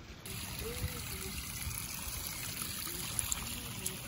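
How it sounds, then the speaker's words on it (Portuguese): Spring water trickling down a forest trail toward a lagoon in Chapada Diamantina, a soft steady flow under constant insect buzzing, with occasional faint clicks. "Aqui é tudo água nascente, ó, que vai descendo até a lagoa"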